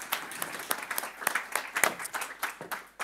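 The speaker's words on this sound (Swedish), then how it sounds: "Så att först ska jag bjuda upp, och de kan få en varm applåd, Camilla Carlell och Gunilla Dyrhage." Light applause from a small group at a panel discussion, individual claps audible in an uneven patter at moderate volume.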